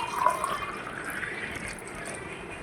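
Water poured from a glass into a pan to make sugar syrup for bread halwa, a steady close liquid stream that gurgles briefly at the start, heard alone without voices.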